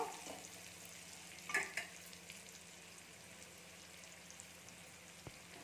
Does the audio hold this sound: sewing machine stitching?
no